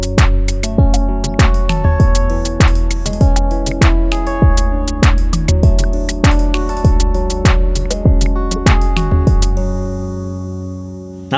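A chord made on the Arturia MatrixBrute, sequenced from a Novation SL MkIII and run through a Black Hole DSP2 Eurorack module. The loud, rhythmic pattern repeats plucky synth chords steadily over deep bass hits and ends in a decaying tail.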